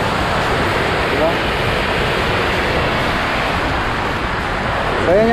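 Powerful rushing water pours through Kong Dadong Dam, a loud, steady broadband roar that never lets up, with a brief voice surfacing near the end.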